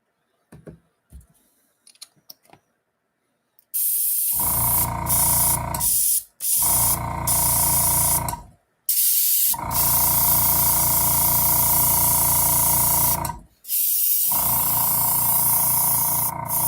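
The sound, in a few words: sprayer spraying a mist of water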